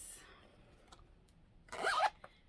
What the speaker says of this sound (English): And then there's the zippers.